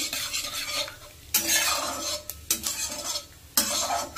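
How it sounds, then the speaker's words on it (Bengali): Radhuni and black cumin seeds frying in hot oil as a tempering, a close sizzle broken by repeated stirring bursts and light scrapes of a spatula against the pan, no voices. "ফোড়নটাকে একটু ভালো করে ভাজতে হবে।"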